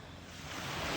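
Ocean waves at a beach in Anawangin, Zambales, a broad wash of surf mixed with wind noise, swelling slightly louder toward the end, with no voices.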